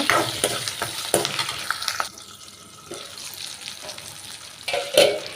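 Onion, garlic and curry leaves sautéing in a pan, a close crackling sizzle broken by scraping stirs and a brief watery rush near the end.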